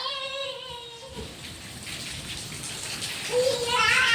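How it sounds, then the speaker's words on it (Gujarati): Steady rain falling on surfaces outdoors, a dense, even patter heard up close, with voices speaking in a melodic tone at the start and again near the end. "વરસાદ હજી ચાલુ જ છે"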